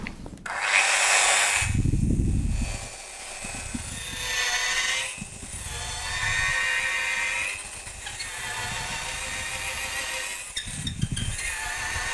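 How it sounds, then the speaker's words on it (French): A power drill bores a hole through a wooden workbench, a near-Roubo bench with a sacrificial backing block beneath, in several loud grinding bursts with brief pauses between them and no talking. "je perce"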